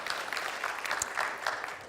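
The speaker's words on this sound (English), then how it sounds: "Let's give him a round of applause." Church congregation applauding at a Sunday worship service, a fairly soft, steady patter of many hands clapping, somewhat distant, with no clear speech over it.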